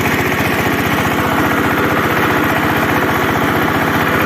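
A Lider 220D tractor engine runs steadily while pulling a disc harrow, a loud, continuous low throbbing drone with a fast, even pulse and no voices.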